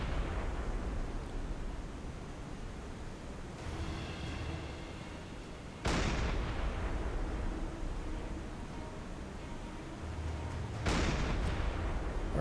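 A naval deck gun fires in the submarine game Silent Hunter 5, with heavy booms spaced several seconds apart, each followed by a long rumbling decay over a steady low background drone.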